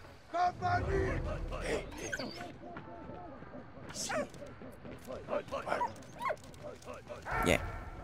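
A dog in the video game Valiant Hearts: The Great War gives several short barks and yips amid game sounds, with someone talking over parts of it.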